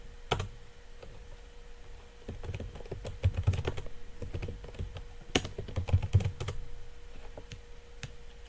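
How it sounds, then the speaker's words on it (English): Keystrokes on a computer keyboard as a password is entered at a login prompt: a run of quick, close, moderately quiet clicks in uneven bursts over several seconds, with a few sharper key taps, over a faint steady hum and no talking. "I typed the password in wrong"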